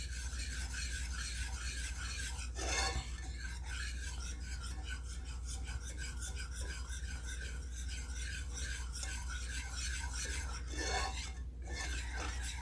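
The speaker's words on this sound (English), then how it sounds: "I'm just beating this up real good." A whisk or spoon beating a chocolate egg mixture for a Black Forest pie, a steady rasping scrape that runs continuously with slight rhythmic variation, close and moderately loud.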